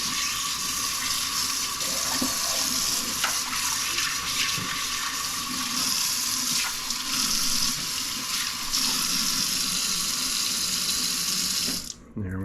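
Steady running tap water pours continuously into a sink while fresh trout are rinsed, a full, even rush that cuts off abruptly near the end.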